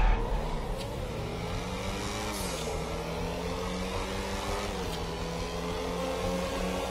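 XA-21 supercar in GTA 5 accelerating through its gears, the engine tone climbing, dropping at two shifts and climbing again, steady and moderately loud with no voices over it.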